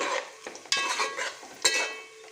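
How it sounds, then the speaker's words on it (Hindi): Onions frying in a pan for an aloo matar veg pulao are stirred with a metal spoon, giving a soft steady sizzle broken by two sharp, close scraping clinks against the pan. "प्याज को अच्छी तरह चलाते हुए हमने लाल कर लिया है"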